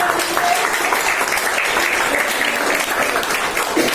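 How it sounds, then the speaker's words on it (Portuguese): Sustained applause from a group at a training session, a dense, even wash of many hands clapping steadily and fairly loud for the whole span, with no clear voices over it. "Então, salva de palmas."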